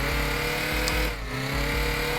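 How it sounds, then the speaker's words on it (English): A steady engine drone with a brief dip midway, loud and continuous, from a car cruising in the PS4 game Dreams. "We got this car right here. Drives pretty well, handles well."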